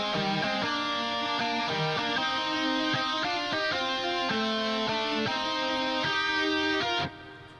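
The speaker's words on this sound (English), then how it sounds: "So this guitar sounds like this." A sound-font guitar lead plays a bright, sustained melodic line of distinct notes over steady backing, loud and continuous for about seven seconds before cutting off abruptly.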